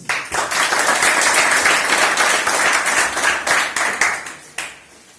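A football team applauds its president in a room after a winning goal, a burst of many hands clapping that swells quickly, holds briefly, then thins into a few scattered final claps.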